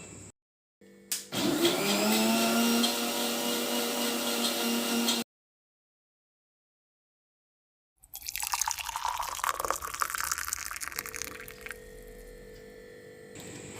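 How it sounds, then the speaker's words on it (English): An electric mixer blends a milkshake of cocoa powder, palm jaggery, coffee powder and milk with a loud, steady whir. It stops, falls silent for a few seconds, then starts again with rougher, sputtering churning. "Blend well using a mixer."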